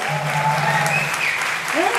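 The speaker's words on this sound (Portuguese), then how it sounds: "Uma salva de palmas para os músicos maravilhosos!" Applause from a crowd at a live 1980s-style music show for the band's musicians, a dense wash of clapping over a faint sustained tone, brief and steady throughout.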